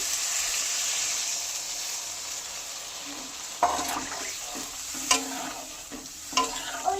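Water is poured into potatoes fried with spices in a pan to make gravy for a lentil and shrimp dumpling curry. A steady hiss gives way to sharper sizzling bursts and a few scraping clatters toward the end, with no talk.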